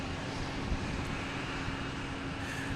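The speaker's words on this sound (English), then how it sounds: "A320 heading to Aruba" A JetBlue Airbus A320 jet at Boston Logan produces a faint, distant, even whoosh of engine noise with a low steady hum underneath.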